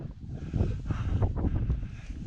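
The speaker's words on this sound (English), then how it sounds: "it's very windy" Strong gusting wind buffeting the microphone on a mountain ridge near the summit of Moel Siabod, low rumbling roar rising and falling in close, loud gusts.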